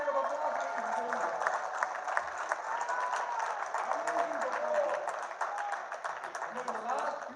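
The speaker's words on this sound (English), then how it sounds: "Give them a very big round of applause, ladies and gentlemen." Audience applause at a live event, a sustained patter of many hands clapping at moderate distance, with a voice heard faintly over parts of it.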